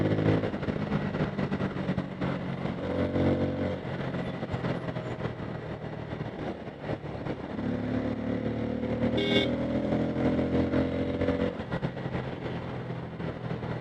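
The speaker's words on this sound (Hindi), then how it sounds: "थोड़ा सा खींचते हैं बाइक को" A Bajaj Pulsar N250 motorcycle accelerates through traffic, its engine droning steadily with rising and falling tones amid surrounding road and wind noise, heard from the rider's position.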